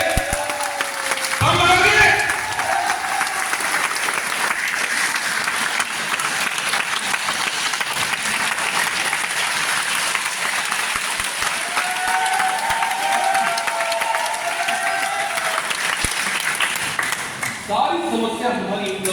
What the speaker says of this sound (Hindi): एक बार जोरदार तालियां बजा के बता दीजिए